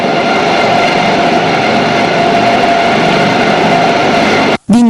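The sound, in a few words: rescue helicopter during mountain rescue exercise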